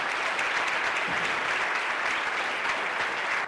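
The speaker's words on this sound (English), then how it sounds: "Please give us a round of applause to the White family" A crowd applauds the White family at a memorial event, dense sustained clapping that holds loud and even from start to finish without speech.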